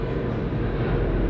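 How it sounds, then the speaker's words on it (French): A fixed-wing airplane passes overhead, its engine a steady loud broadband roar and rumble that fills the whole moment without any talking. "Excusez-moi, il y a un avion derrière moi."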